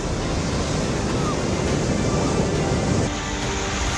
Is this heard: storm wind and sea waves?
yes